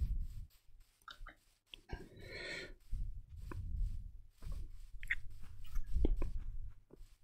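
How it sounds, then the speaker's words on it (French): Baked potatoes being eaten in Minecraft: a run of crunchy, bite-like chewing bursts repeating in quick succession, fairly close and alone with no talking. "Patates chaudes, il me reste deux, je devrais peut-être manger ça"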